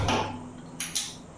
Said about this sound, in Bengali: এবার আমি গ্যাসটা ধরিয়ে নেব।